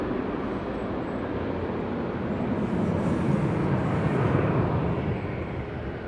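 An airliner departing Manchester Airport, a broad, steady jet roar heard from a distance, swelling slightly in the middle and easing off toward the end.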